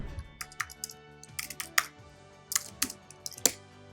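Quick bursts of clicking keystrokes on a computer keyboard while JavaScript code is typed, irregular clusters of sharp, close taps separated by short pauses, with no voice over them.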